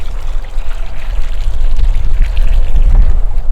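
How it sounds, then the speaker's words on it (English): A full bucket of water pours steadily onto a newly planted bare root fruit tree, a loud continuous close gush and splash that swells slightly toward the end, with no talking. "we do want to put the entire bucket of water on this tree right away"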